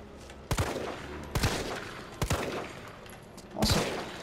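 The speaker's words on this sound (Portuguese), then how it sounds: "o barulho da arma tá sensacional" Gunfire in Resident Evil 3 Remake: four sharp, loud shots spaced about a second apart, each with a short reverberant tail, over a quiet room-tone background.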